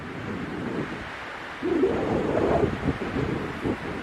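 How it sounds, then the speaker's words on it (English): Strong wind gusts roar through a desert wash in Utah, a steady broadband rush that swells louder about halfway through and buffets the microphone with low rumbling. "Hanging out in the very, very windy wash."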